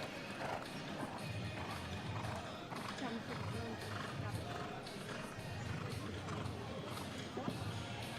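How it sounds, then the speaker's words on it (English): Horse hooves thudding and clip-clopping over turf as the horse gallops and jumps in an eventing show jumping round at an FEI Nations Cup, quiet beneath a crowd-filled arena ambience and commentary. "Gives the horse his head to jump."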